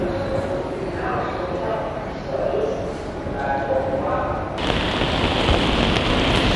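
Heavy rain falls in Copenhagen as a steady, dense hiss that grows louder and brighter near the end, with faint voices in the background.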